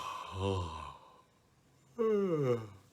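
A long, drawn-out yawn-like exhale with falling pitch, a pause, then a second louder voiced yawn sweeping downward; close and alone.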